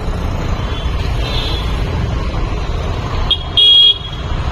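Busy road traffic rumbles steadily near a temple during Navratri festival preparations in Panvel, with a short, loud, close car horn blast near the end.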